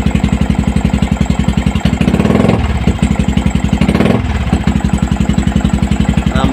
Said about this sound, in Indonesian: kemudian jika kita tarik gas